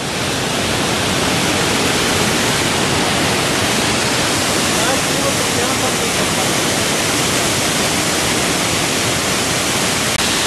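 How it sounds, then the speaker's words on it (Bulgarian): Continuous thundering rush of waterfalls, loud and unbroken throughout, a dense wash of falling water with no talking. "ето следващите водопади"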